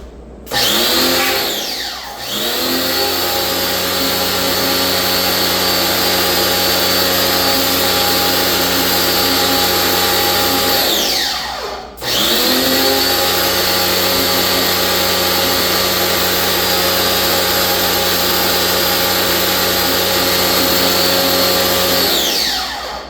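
A cleaning machine scrubs scale deposits from a urinal, giving a loud, steady motorized whine that runs for about ten seconds, cuts out briefly, then starts again and runs steadily to the end.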